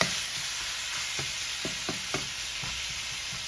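Ground beef seasoned with black pepper frying in a pan, a steady broadband sizzle with a few soft stirring scrapes and clicks, close and alone.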